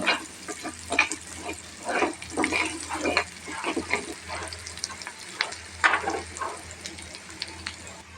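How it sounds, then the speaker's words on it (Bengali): Onion, garlic and chili fry in a pan with a soft sizzle, broken by repeated scraping and stirring bursts at an uneven rhythm, fairly quiet and close. "আমার পেঁয়াজ রসুন মরিচটা ভাজা হয়ে গেছে"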